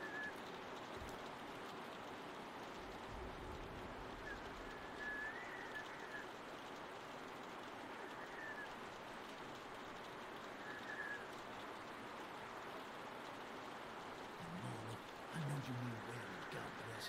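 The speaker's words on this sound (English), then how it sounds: "Man, keep sitting out in the rain like a damn deer." Rain falls steadily outside a barn in The Walking Dead video game, a constant close hiss that runs unbroken throughout, with faint whistling tones on top and a few low thuds near the end.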